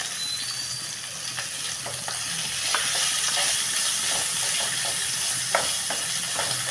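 Ivy gourd (tondli) and green chili sautéing in oil in a pan, a continuous close sizzle with scattered spatula scrapes and stirring clicks, slightly louder in the second half.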